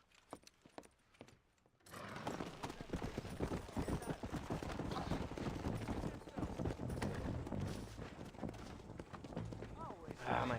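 Horse hooves clip-clop in Red Dead Redemption, a few sparse hoofbeats first, then a fast, dense galloping rhythm amid a busy game scene with voices talking over it.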